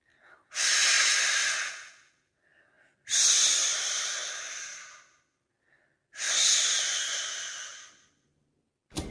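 A voice makes three long, breathy whooshing blows imitating wind, each swelling then fading, separated by short pauses.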